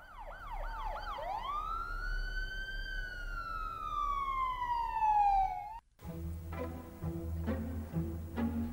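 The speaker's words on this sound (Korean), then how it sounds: "주민의 신고로 경찰과 119 구급차가 온다." Police car and ambulance sirens arrive at a residential building, a loud wailing siren sweeping up and down for about six seconds before cutting off abruptly into busier street noise.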